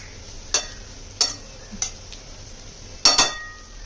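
Broad beans (valpapdi, ghevda) crisp in a pan over a low flame under a faint steady sizzle, broken by four sharp metallic scrapes and clinks from a stirring utensil, the last a quick double.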